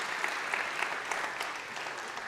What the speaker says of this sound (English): I would like you to give her a round of applause